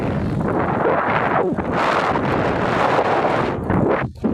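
Strong gusts buffet an outdoor microphone at a windy fair in Madhupur, a loud continuous roar with brief dips, no talking heard.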